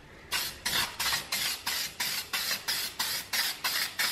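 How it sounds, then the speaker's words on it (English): Aerosol spray adhesive from a can coating one side of a piece before gluing, heard as about eleven short, even hissing bursts in a steady rhythm, close and fairly loud with no talking. "So spray one side, put it aside so it can go tacky."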